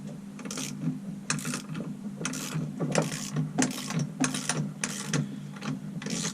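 A hand ratchet turns a bolt into a connecting rod during a 1998 Honda CR125 engine rebuild, giving a close series of quick clicking strokes in an uneven rhythm with short pauses, and no talking.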